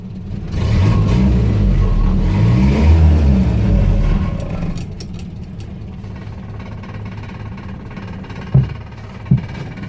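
A Land Rover Series 3 109 engine runs steadily and loud, a rough clattering idle with a brief rise around the middle, settling lower and quieter, with a couple of sharp knocks near the end.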